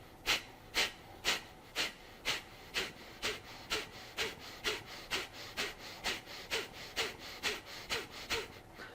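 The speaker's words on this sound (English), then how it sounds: "I'm forcibly exhaling as I suck in my gut" Forceful rhythmic exhalations from a centering breathing technique, with the abdomen pulled in on each breath out: about twenty sharp, breathy puffs at a steady quick pace, close and alone.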